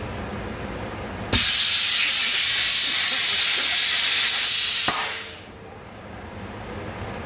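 Air hisses from the faulty airbrake parking valve on an IH 4900 truck, a loud steady rush that bursts on abruptly, holds for about three and a half seconds, then cuts off and fades to a low background hum.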